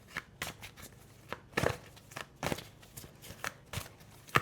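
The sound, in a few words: shuffling tarot cards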